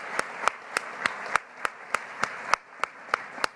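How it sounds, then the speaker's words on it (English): At an award luncheon, a single pair of hands claps in a steady, evenly spaced rhythm, about a dozen crisp, close claps with quiet between them. "So I just want to give you all a round of applause."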